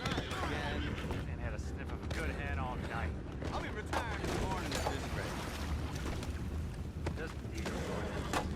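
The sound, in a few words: horse neighing in video game Red Dead Redemption 2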